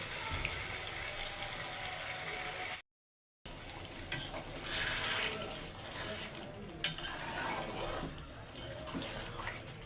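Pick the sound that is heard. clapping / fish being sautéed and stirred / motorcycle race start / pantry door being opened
fish being sautéed and stirred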